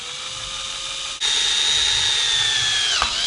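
A power drill whines steadily up close while drilling a gyro, its pitch jumping higher after a brief catch and then dipping as it bites in.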